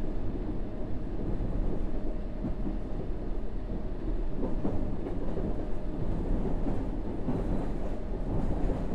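A London Underground train in a simulator game runs between Aldgate and Baker Street, giving a loud, continuous rumble with faint rhythmic clatter from the wheels and carriages and no talking.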